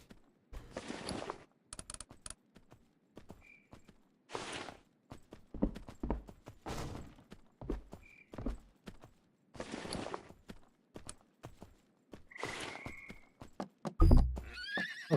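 In the Mortal Online 2 video game, a horse whinnies several times between bursts of clip-clopping hooves, spread across the stretch with short quiet gaps and a louder thump near the end.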